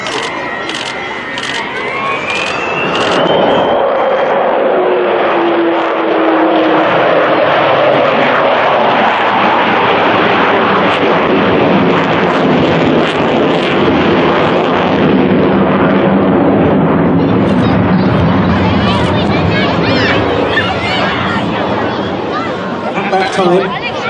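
Avro Vulcan XH558 jet bomber flying at the 2015 Rhyl Air Show, a loud sustained jet roar that swells and holds steady for the whole stretch over crowd chatter.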